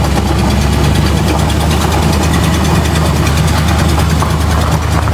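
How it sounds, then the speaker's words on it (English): A 52-year-old Jeep Wagoneer engine runs steadily at close range, a loud, rough, continuous idle with throbbing low rumble and mechanical clatter; no distinct carburetor pops stand out. "Carburetor's still backfiring and killing it and all that crap."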